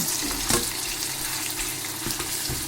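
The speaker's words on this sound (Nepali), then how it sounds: "तेल चाहिँ तातिसक्यो, मैले चाहिँ हालेँ मासु। मेरो चाहिँ पहिला मासु भुट्ने बानी छ।" Chicken pieces frying in hot oil in a pan, a loud, dense continuous sizzle with occasional crackles, no voices.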